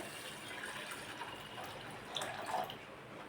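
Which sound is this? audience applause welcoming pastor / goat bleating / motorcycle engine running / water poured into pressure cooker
water poured into pressure cooker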